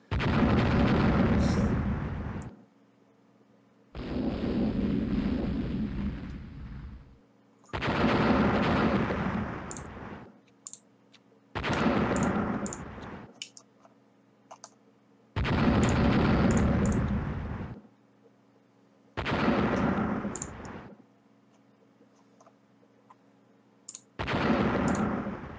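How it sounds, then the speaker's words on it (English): Naval battle sounds from the warship strategy game Rule the Waves as a big torpedo spread is launched: seven loud, booming salvos of gunfire spaced a few seconds apart, each a roaring burst that cuts off abruptly into silence. "there we go, a big torpedo spread"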